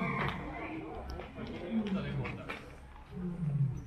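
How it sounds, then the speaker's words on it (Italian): A lion roaring at a zoo in Japan, a rough, rising growl heard at moderate distance, with people talking over and around it. "È il leone che fa sto rumore."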